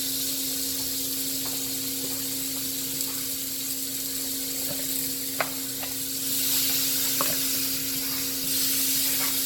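Pork chops sizzling in a hot pan, a steady crackling hiss with a constant hum beneath, occasional sharp clicks and scrapes, and the sizzle swelling louder partway through as more chops go in.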